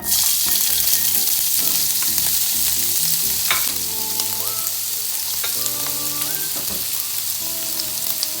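Crushed ginger and garlic frying in oil in a hot frying pan for Kerala-style chicken biryani: a dense, constant close-up sizzle with stirring scrapes and occasional tonal clinks running through.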